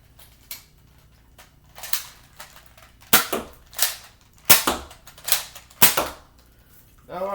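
Nerf N-Strike Elite foam dart blasters fired one at a time, giving about ten sharp, snappy clicks and thumps at uneven intervals, close and fairly loud against quiet.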